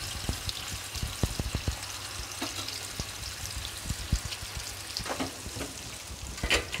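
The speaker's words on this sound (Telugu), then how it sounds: "ఈ ఉసిరికాయలు కొంచెం వేగాలన్నమాట." Small amla gooseberries fry in a pan with a soft, steady sizzle and scattered pops and crackles, heard quietly and alone.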